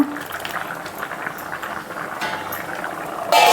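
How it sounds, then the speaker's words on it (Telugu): Dal with fenugreek leaves and spices simmering in a pot on a gas stove, a steady soft bubbling and gurgling close by, with a brief clink near the end. "పప్పు ఎట్లా ఉడుకుతుంది"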